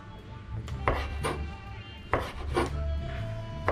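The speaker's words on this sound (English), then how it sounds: "So I'm just gonna cut them now, put them in a dot, go in the pot." Conch and bussu are chopped with a knife on a board for Jamaican-style soup: several sharp, irregular strikes ring out close over a low background rumble, without speech.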